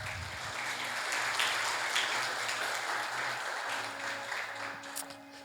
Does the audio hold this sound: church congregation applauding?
yes